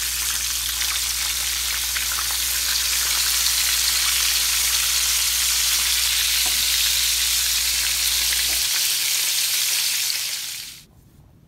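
Cleaned, deveined butterflied shrimp sizzle loudly and steadily in hot oil in a pan, a dense continuous fry that holds for about ten seconds and then cuts off abruptly near the end.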